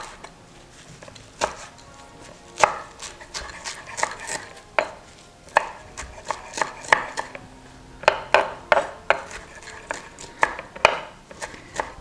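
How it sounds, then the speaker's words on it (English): A knife chops cilantro and mint on a board for a Persian eggplant stew, with irregular bursts of close, crisp thuds, sometimes single strokes and sometimes quick runs. "right now I've got the cilantro and mint. I'm going to chop."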